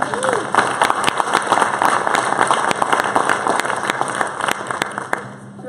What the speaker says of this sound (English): give another round of applause to the ROTC and also to the wonderful, wonderful choir that sang for us